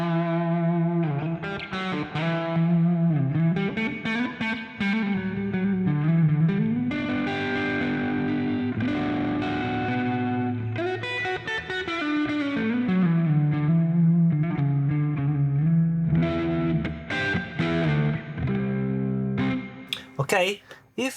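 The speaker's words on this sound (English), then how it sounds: "I love plate reverb." Electric guitar runs through a plate reverb on an IK Multimedia Tonex pedal, playing distorted chords and melodic lines with a lush, shimmering tail, alone for about twenty seconds.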